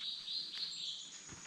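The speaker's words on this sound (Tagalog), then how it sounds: "Ang ingay ng mga ibon." High, bright bird chirping rings out continuously against a faint outdoor background, moderately distant and fairly quiet.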